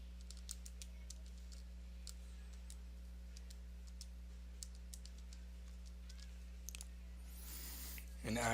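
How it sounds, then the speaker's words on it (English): Calculator keys are pressed in a rapid run of light, sharp taps over a steady low electrical hum, faint and close, ending with a brief rustle. "I just need to use calculator and type it in."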